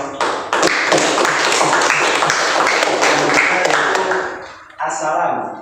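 A crowd breaks into applause, dense clapping that swells and holds, then fades out near the end before a brief new sound begins.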